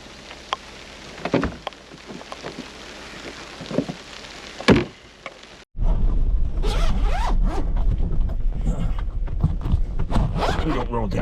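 A Jeep soft-top window being unzipped, a loud zipper rasp in the first half with a few sharp bursts, then rain pattering steadily on the vehicle for the rest.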